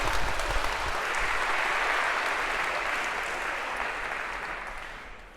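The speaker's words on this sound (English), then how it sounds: "Maybe a round of applause for our first volunteers of term." A lecture-hall audience at a university computer science class claps for student volunteers, a sustained burst of applause that gradually tapers off toward the end.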